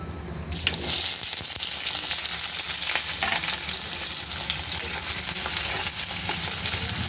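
Onions frying in a pan after carrot and paneer were fried, a loud steady sizzle that runs without a break through the whole stretch, with faint stirring scrapes now and then.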